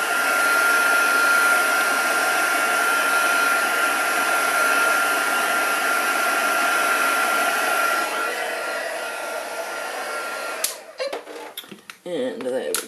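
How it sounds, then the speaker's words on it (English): A heat tool blowing hot air to dry ink, a loud, steady close-up whir that runs for about ten seconds, then cuts off and leaves handling clatter and small knocks. "I am going to very quickly blast that with a heat tool"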